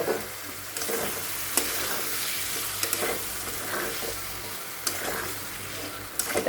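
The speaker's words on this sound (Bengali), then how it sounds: "এটাকে আমি আরও ভালো করে আর একটু কষিয়ে নেব" Spices cooking down with cashew-poppy paste and yogurt-marinated taro in a pan, a continuous loud sizzle with periodic scraping stirs, close and without talk.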